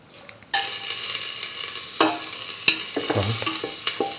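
Ginger hits hot oil with a sudden loud sizzle that holds steady for several seconds, broken by a few sharp stirring clinks of a utensil against the pan.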